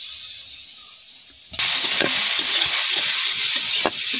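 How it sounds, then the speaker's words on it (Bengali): Ginger and onion paste dropped into a hot pan bursts into loud sizzling after a quiet start, with stirring scrapes and crackles continuing close by. "আদা বাটার পেঁয়াজ বাটাটা দিলতেছি কষানির মধ্যে"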